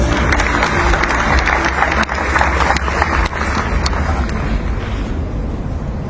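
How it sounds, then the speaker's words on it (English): A conference audience applauds at an energy industry event, a dense, steady wash of clapping held loud and close throughout, thinning slightly toward the end. "A big round of applause, please."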